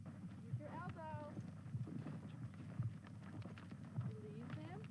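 A horse walks with a steady clip-clop of hooves during a therapeutic riding session, the hoofbeats fairly faint and rhythmic beneath an instructor's voice giving directions.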